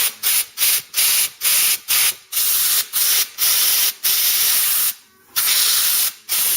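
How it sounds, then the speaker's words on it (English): Compressed air from a blow gun clears dust off a starter motor part during a Ford Cortina GXL rebuild. About a dozen loud, close bursts of hissing air come in quick succession, separated by short gaps. "I'm going to put some air on this, just if there's any dust,"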